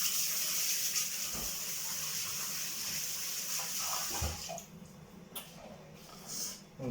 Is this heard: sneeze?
no